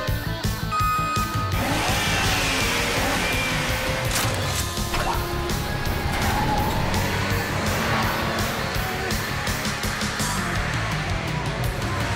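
An out-of-control cartoon car careens down a highway with failed brakes, its loud tire screech and engine roar running continuously under dramatic music, with a brief crash-like hit near the start.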